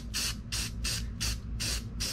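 Rust-Oleum metallic aluminum spray paint goes onto a model car axle for a '55 Chevy Bel Air kit in five even, rhythmic hissing bursts, close and steady over a low background rumble.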